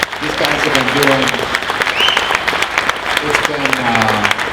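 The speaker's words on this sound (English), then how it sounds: "I guess another round of applause for Jeff and the whole plan." Round of applause from a seminar audience at the 2016 Corvette seminar, steady dense clapping throughout with voices talking over it.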